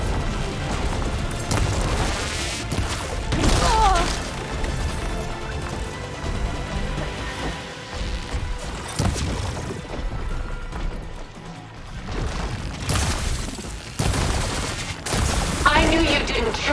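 Combat in the video game Horizon Forbidden West, with repeated loud booms, crashes and bursts of gunfire scattered across the stretch, some sharp impacts standing out over a busy, rumbling background.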